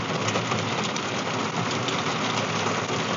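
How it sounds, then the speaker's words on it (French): Heavy rain drums steadily and densely on the roof of a campervan parked on a large muddy motorhome lot, a close, continuous downpour with no voices. "si on entend la pluie tomber"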